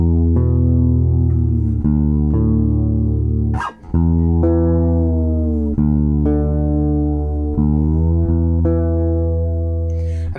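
Fretless bass playing fifths and octaves above the root note, sustained intervals gliding between pitches with smooth slides, close and clear, with a brief dip in the middle and no talking.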